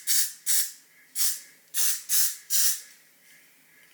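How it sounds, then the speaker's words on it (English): Got2b hair spray is sprayed onto hair from close range in six short, sharp hissing bursts, with brief pauses between them and a fainter spritz at the end. "I'm gonna spray her down with some got to be."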